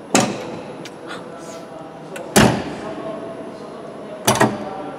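Cab door on a Cat motor grader slammed shut three times, each a sharp loud thud with a short rattle, spaced a couple of seconds apart, with a faint steady cab hum and a little quiet talk between them.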